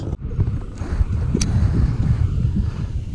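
Steady low rumble of wind buffeting a microphone outdoors on the water while fishing, continuous and fairly loud across the whole stretch with no clear talk.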